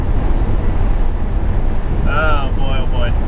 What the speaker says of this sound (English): I get to drive all the way to Michigan listening to the sound of wind